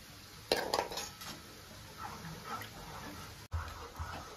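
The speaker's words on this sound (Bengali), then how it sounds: "আমি তেল উঠিয়ে রেখে দিচ্ছি বাটিতে" Cooking oil is scooped from a pan into a bowl, giving a few soft metallic clinks and scrapes of a spoon against cookware. The sound is faint and close, with quiet shuffling in between.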